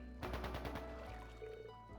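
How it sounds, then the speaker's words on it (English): Bursts of gunfire from the video game Trails Into Reverie, a rapid volley of sharp shots at the start, then a lingering low rumble with ambient game sound and no voices. "Is that gunfire?"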